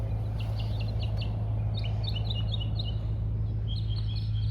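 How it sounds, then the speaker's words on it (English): Several birds chirp and tweet in short bright bursts over a steady low hum on a hot early morning in a Florida retirement community, the calls fairly close and repeating irregularly. "Good morning, birds."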